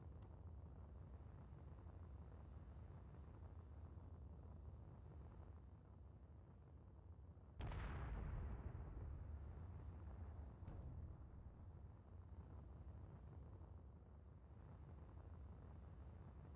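A warhead detonates in Space Engineers: a single sudden broadband blast cuts through a low steady wind-like rumble and then decays slowly into a long rolling tail.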